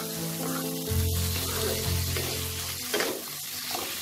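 Spice paste with turmeric frying in oil in a pan until the oil separates, for a climbing perch and cauliflower curry. A steady, moderately loud sizzle carries on throughout, with a few scraping stirs and some faint bubbling and no one talking.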